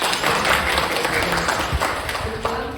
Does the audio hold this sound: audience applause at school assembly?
yes